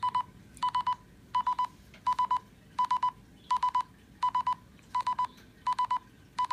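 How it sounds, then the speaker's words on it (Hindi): Mobile phone alert triggered by the find-phone feature of a T500 smartwatch: a loud electronic beeping repeating as even bursts of three quick tones, about ten bursts in steady rhythm with short gaps between. "इस टाइप से हमारे मोबाइल पर साउंड बनना स्टार्ट हो जाएगा"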